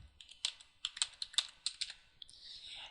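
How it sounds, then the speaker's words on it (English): A password is typed on a computer keyboard, a short run of close, crisp, irregular key clicks that ends in a faint softer rustle, with no talking. "We type it in."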